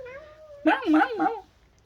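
A cat, one of several gathering indoors around a nursing mother with kittens, gives a drawn-out wavering meow followed by a short, rising, agitated cry, close and clear.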